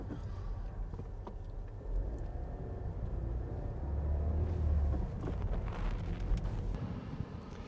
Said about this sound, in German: eben war es ein bisschen lauter, weil hier ein Bus lang gefahren ist.